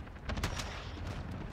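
Gunfire in the video game Call of Duty, shooting at a personal UAV: a short cluster of sharp rapid shots over a low rumble, with a few scattered follow-up shots.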